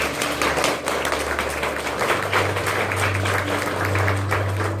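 A church congregation applauds in a dense, continuous patter of claps over a low background hum, moderately loud and steady for several seconds.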